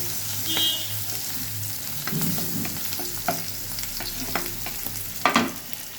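Ginger, cumin and fenugreek powder fry in a pan, a soft close sizzle with repeated scraping stirs and a few sharp utensil clinks near the end.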